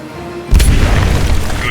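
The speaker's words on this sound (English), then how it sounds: "That explosion will sure attract some company." A sci-fi war video game explosion: one sudden, loud boom that swells and rumbles on with a low roar for more than a second, heard alone with no talk.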